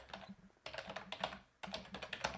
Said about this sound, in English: oops, my keyboard.